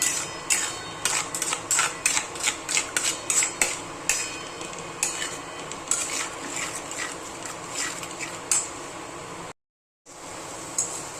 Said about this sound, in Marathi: आता हा मसाला ना थोडंसं तेल सुटेपर्यंत भाजून घ्यायचं आहे